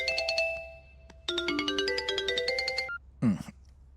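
An electronic phone ringtone plays a bright melodic sequence of tones, loud and close, early in the morning, followed by a brief rising sweep.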